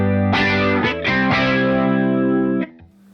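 An electric guitar played through the flanger of a UAFX Astra Modulation Machine pedal, distorted chords ringing with a sweeping, swirling modulation, a few close strums sustained and then cut off.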